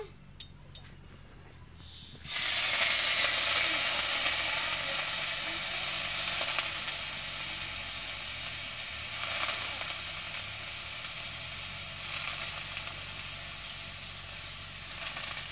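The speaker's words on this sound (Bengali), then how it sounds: "তেলটা আমার গরম হয়ে গেছে, আমি এখন চিংড়ি মাছকে দিয়ে দেব।" Prawns drop into hot oil for a Bengali malai curry, setting off a sudden loud crackling sizzle after a quiet start that holds steady and close, easing only slightly over time.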